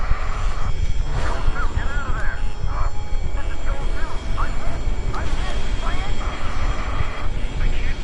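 Fighter jets roaring through an aerial dogfight in the video game Ace Combat 7, a loud continuous engine rush with swells and passes, overlaid by radio chatter from pilots.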